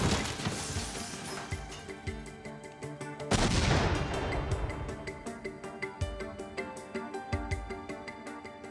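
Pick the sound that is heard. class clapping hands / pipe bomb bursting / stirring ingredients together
pipe bomb bursting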